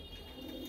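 A single soft pigeon coo sounds faintly at a distance on a rooftop, brief and low, over a quiet background hiss.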